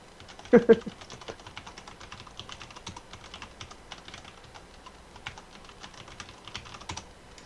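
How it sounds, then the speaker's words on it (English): Quiet tapping on a mechanical keyboard, with a brief louder burst of clicks near the start followed by soft, scattered keystrokes continuing in the background. "I have a mechanical keyboard. I must have held down V for too long"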